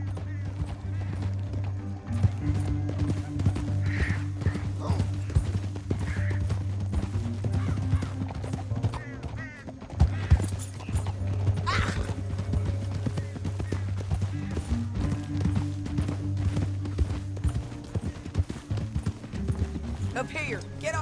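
Horse hooves clip-clop at a steady galloping rhythm in Red Dead Redemption 2, over a constant low droning music bed, with a few sharp clatters partway through.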